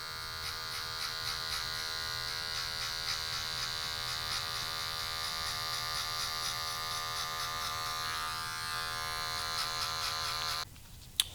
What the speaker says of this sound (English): Next, I'm gonna use the 1 guard clipper lever open